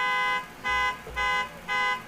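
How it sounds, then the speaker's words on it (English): A car alarm pulses through a horn in a parking lot beside a high school baseball game, sounding as steady repeated honks at a moderate distance with no talk over it. "As the alarm goes off on a horn in the parking lot."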